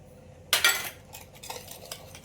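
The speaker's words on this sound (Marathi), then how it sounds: "आणि आता चांगल्या प्रकारे याला व्यवस्थित फेटून घेऊया." Semolina cake batter being whisked in a bowl, a brief burst of metallic scraping and clinking followed by lighter taps, close and fairly quiet, with no talking.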